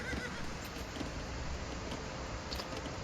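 Horse sounds from the Age of Empires 2 video game, a steady dense wash of clip-clop hooves and a faint whinny running unbroken throughout, with no talk over it.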